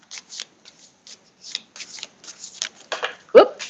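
Tarot cards being shuffled by hand, a quick run of riffling flutters and soft slaps ending in a sharper snap, close up, with a voice talking briefly.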